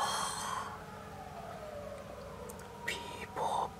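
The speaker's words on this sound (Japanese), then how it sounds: "まあ結構な確率で救急車来るよね、ここ。" An ambulance siren passes at a distance, its wail faint and gradually falling in pitch beneath steady background noise, with a few brief sharper sounds near the end.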